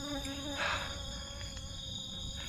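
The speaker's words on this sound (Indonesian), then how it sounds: "ini kok ada lebah sih?" A bee buzzing in a forest, a thin steady whine holding close and faint under quiet background with a brief louder pass early on.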